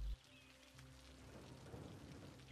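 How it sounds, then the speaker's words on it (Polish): Soft, steady rainfall from the city-building game Cities: Skylines hisses as a faint, continuous wash with no talking. "tu jest ciemno, deszcz pada"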